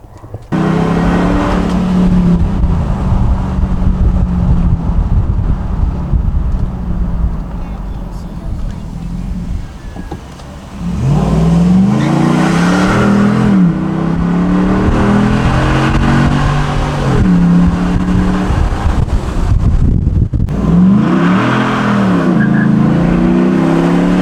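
A Ram 1500 pickup truck engine with a cold air intake revs up in several deep, throaty bursts, dropping back to idle between pulls, loud and close, with a voice talking over part of it.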